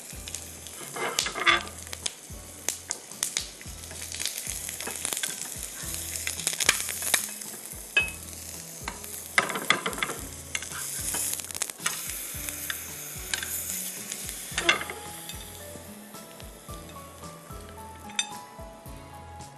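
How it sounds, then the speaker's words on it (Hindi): Parathas sizzle and fry steadily in a pan, with occasional clinks of utensils and stirring, continuous and close throughout with no talking. "पराठे फ्राई कर रही हूँ मोनसलवा के"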